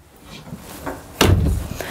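A closet door in a 2019 Winnebago Outlook 31N Class C motorhome thuds open sharply, its bang ringing briefly before fading into a quiet room.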